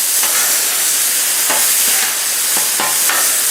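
Steak sizzling loudly on a Blackstone griddle as it is flipped, a dense, constant frying hiss with a few brief scraping clanks of a spatula against the hot surface.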